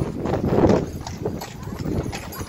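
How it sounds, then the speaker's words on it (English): Horse hooves clip-clop along a street during the Blackpool Illuminations, several quick close steps in an uneven rhythm over background crowd murmur. "Here comes a horsey"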